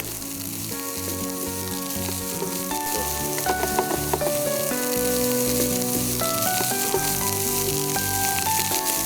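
Boiled rice being stir-fried in a pan for beef masala egg fried rice, a steady close sizzle with stirring scrapes running under background music throughout.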